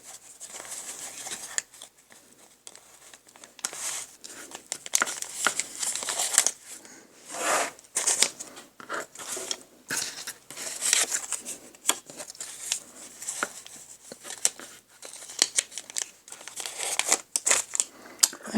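Scissors snip and rustle through fabric while primitive fabric tags are being cut, producing a busy run of close crisp cuts and crinkling handling noises with no talk.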